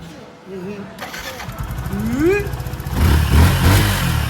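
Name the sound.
motorbike being started and revved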